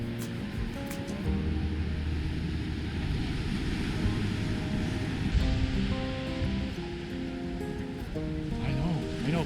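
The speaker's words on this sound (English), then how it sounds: "He loves the sound of the ocean." Continuous Atlantic surf rolling and washing in on an Assateague beach, a broad steady roar with a faint droning hum underneath, no clear talking.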